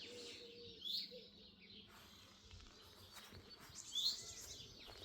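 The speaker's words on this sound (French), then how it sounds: "Tu entends les oiseaux de l'autre côté?" Faint birdsong in a vegetable garden in the morning, with short high chirps at a distance over a quiet outdoor hum, with insect-like buzzing in the background.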